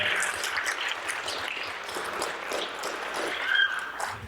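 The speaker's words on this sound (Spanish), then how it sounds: "Recibámosle con un fuerte aplauso" An audience at a conference on autism and inclusion claps in a steady, moderate round of applause that carries on throughout, heard from a short distance.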